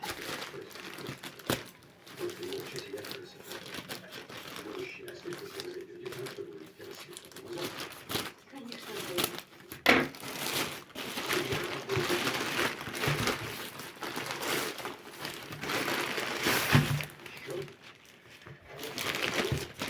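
A parcel from an online order for headphones and sneakers is unpacked, with plastic packaging crinkling and rustling irregularly at close range while someone talks intermittently.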